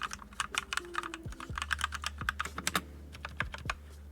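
Rapid, irregular keystrokes on a loud, clicky custom mechanical keyboard, each press a sharp close-up click in a steady typing run with no voices.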